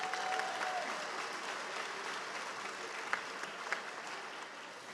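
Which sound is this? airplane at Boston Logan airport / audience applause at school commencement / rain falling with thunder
audience applause at school commencement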